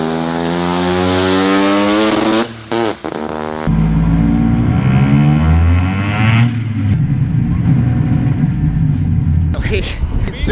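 A Mazda single-rotor rotary engine buzzes and revs at high pitch, sputters and cuts out, then restarts roughly with rattling, uneven running; voices talk over part of it.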